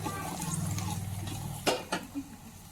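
Onions with salt are stirred in a pan, a spoon scraping and clinking against the metal a few times near the end after a stretch of talk.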